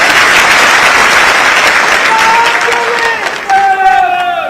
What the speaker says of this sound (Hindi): तो इनके लिए तालियां हो जाए जोरदार।